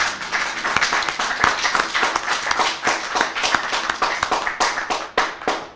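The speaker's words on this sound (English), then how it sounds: "I think that for everybody that stuck around, that the candidate should applaud you." Audience at a general election candidates' debate in North Mason claps for several seconds, a moderate crowd of distinct, sharp hand claps with uneven rhythm, fairly close and steady throughout.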